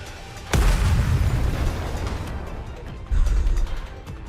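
Missiles launching wildly and blowing up in the game Goddess of Victory Nikke, a loud blast with a long rumbling tail, then a second heavy boom a few seconds later, no voices.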